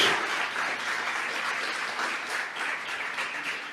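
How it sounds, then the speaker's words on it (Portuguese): Sustained applause from a large church congregation fills the whole stretch, a dense steady roar of many hands clapping. "Você pode aplaudir ao Senhor"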